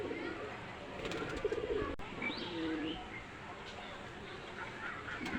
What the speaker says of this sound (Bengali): একজোড়া হীরালাল কবুতরের বেবি দেখতে পাচ্ছেন আমি ছেড়ে দেখাচ্ছি